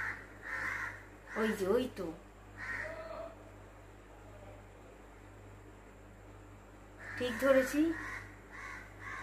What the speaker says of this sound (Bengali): তো আমার তো মনে হচ্ছে এটা কাকের আওয়াজ